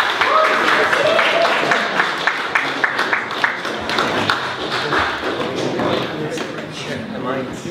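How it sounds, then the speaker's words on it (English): Audience applause welcoming three panel guests at a talk on Irish trans history, scattered sharp claps forming a loose steady patter that thins out over several seconds, with voices murmuring underneath. "Can we give them a big round of applause?"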